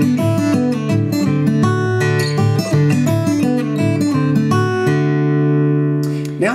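An acoustic guitar plays a quick fingerpicked Piedmont blues lick, bright plucked notes over an alternating bass in a fast steady rhythm, close and clear, ending on a ringing chord.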